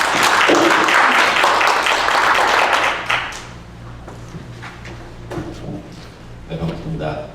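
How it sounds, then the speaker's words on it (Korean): A church audience claps in welcome for a pastor at an Evangelism Explosion gathering, with loud, dense applause for about three seconds that quickly thins out before people begin talking. "우리 목사님 오늘 오후 말씀 하실 텐데 우리 박수로 환영합니다."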